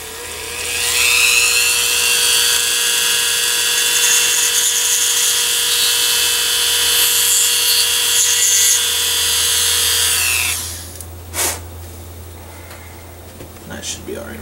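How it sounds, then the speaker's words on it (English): A high-pitched drill whines steadily for about ten seconds, close and loud, drilling out a plastic model kit part, then stops, leaving a few small clicks and handling noises. "let's go ahead and just drill that out real quick"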